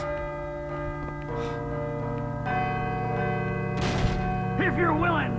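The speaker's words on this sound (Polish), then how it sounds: "I should let the bell finish ringing first." A large bell rings out in the Call of Cthulhu video game, sustained metallic tones layering and decaying, with a voice speaking over the later ringing.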